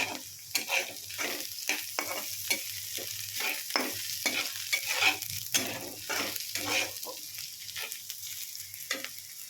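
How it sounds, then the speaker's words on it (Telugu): Small tomato pieces fry in a pan for tomato-onion curry, with a continuous sizzle under a steady run of rhythmic scraping stirs, close by and with no talking. "టమాటో అనేది చిన్న చిన్న ముక్కలుగా కట్ చేసుకుంటే కొంచెం తొందరగా ఉడుకుతాయి సో ఇలా గోల్డెన్ బ్రౌనిష్ వచ్చేంత వరకు వేయించుకుందాము"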